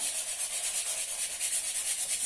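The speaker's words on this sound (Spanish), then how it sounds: "Entonces la tabla lo que nos permite es lijar" Acrylic paint is sanded off a wooden board by hand. Steady, rhythmic, close scratchy rubbing strokes repeat evenly throughout, with no one speaking.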